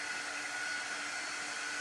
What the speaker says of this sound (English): I'm gonna hit that with a dryer real quick